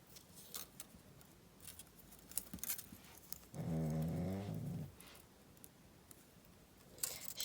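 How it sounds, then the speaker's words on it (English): A dog snores once in a long, rough, rumbling breath about a second and a half long, close by, in an otherwise quiet room where jewellery beads are being woven by hand. "That's my dog snoring."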